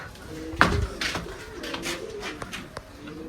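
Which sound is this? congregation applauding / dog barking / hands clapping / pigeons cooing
pigeons cooing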